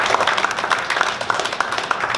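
A comedy show audience in Las Vegas applauds, a dense, fairly loud wash of many hands clapping that continues steadily without speech.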